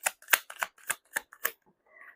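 A tarot deck being shuffled up close: seven sharp papery riffles in quick, fairly even succession, then a brief pause and a soft final slide of cards, with no voices.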